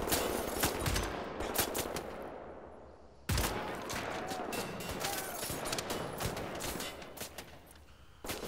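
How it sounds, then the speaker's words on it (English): Assault rifle fire in Wolfenstein: The New Order, dense rapid bursts loud and close, broken by a brief pause before the shooting resumes, with game ambience underneath. "Assault rifle."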